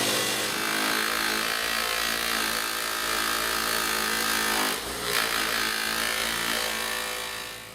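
Power tool polishing the bolt carrier assembly of a WASR-10 AK-47 rifle, a steady, loud whirring grind running continuously with a brief dip midway, no voices present.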